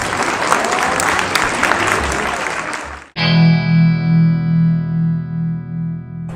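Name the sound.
audience applause for panelists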